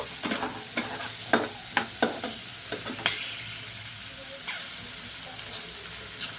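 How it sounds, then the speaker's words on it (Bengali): Cut beans stirred and frying in a pan, with a steady sizzle running beneath a string of sharp spatula scrapes and taps, most frequent in the first half. "তো এগুলোকে একটু নাড়াচাড়া করে নেব"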